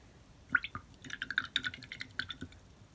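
A paintbrush is swished in a jar of water at a polymer clay jewelry workbench, giving small close splashes, drips and light glassy clinks in an uneven patter.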